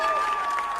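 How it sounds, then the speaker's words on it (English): A live audience at a Nashville showcase concert applauds and cheers, a brief, steady burst of clapping and crowd noise. "Listen to that crowd!"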